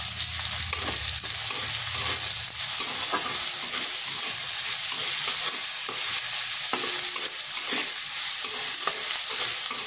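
Chopped onion fries in hot oil in a pan with a steady, hissing sizzle, broken now and then by light stirring scrapes.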